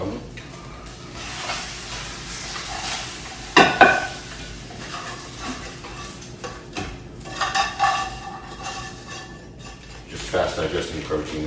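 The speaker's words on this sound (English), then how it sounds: "I have 200 milliliters of egg whites and 1 whole egg cooking" Egg whites and a whole egg cook in a pan with a low, steady sizzle, broken by a few clattering utensil scrapes, while someone talks at intervals.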